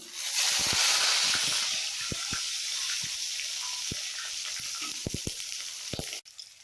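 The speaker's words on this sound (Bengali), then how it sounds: "আমার তেল গরমই আছে, আমি এবার শুকনো লঙ্কাটা দিয়ে দিচ্ছি, তেজপাতা দিয়ে দিলাম।" Dried red chilli, bay leaf and green chillies dropped into hot oil for a mutton kosha: a loud, bright sizzle at first that settles into steady frying hiss, with scattered spoon or pan taps.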